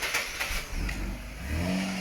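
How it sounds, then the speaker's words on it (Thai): A Nissan Cefiro car engine turns over and revs, a steady mid-pitched rumble that swells in two pushes of the throttle, heard up close outdoors with no talk. "เดี๋ยวให้พี่ตีสตาร์ทเครื่องยนต์ให้ดูนะครับ"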